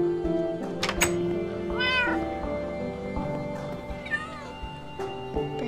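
A cat in a survival video game lets out two distinct meows, a few seconds apart, over a low, steady background hum.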